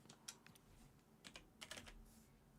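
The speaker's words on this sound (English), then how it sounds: "I'm typing on my fucking PC like an idiot." Clicky keystrokes on a PC keyboard, quiet and close, coming in irregular bursts of several taps separated by short pauses, with no talking.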